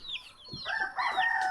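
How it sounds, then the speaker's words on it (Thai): Rooster crowing in a remote village: a single short, close crow with rising and falling cackling notes, clear against a quiet background. "โอ้เสียงไก่ขันอีกเนาะ"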